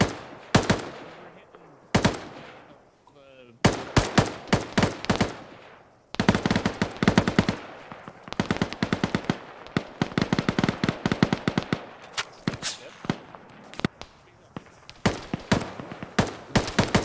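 Heavy gunfire in the Arma 3 military simulation game, with rapid machine-gun bursts and repeated rifle shots crackling in dense volleys, loud and close, with brief pauses between strings of fire.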